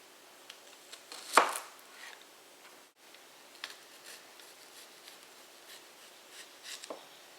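An LT Wright kitchen knife cuts thin slices with a few crisp, close scraping strokes, one sharper cut standing out, followed by lighter scattered taps and scrapes in a quiet room.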